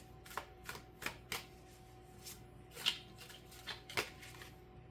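Tarot cards being shuffled and handled close up, a series of crisp light riffles and soft slaps spaced irregularly over a quiet background.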